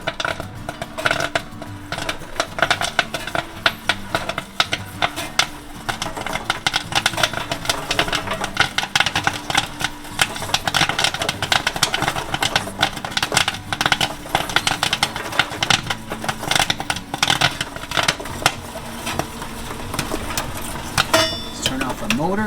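A popcorn popper's motor runs steadily while kernels pop and rattle in the pan, a dense stream of quick close crackles and clatter continuing throughout, growing busier toward the end.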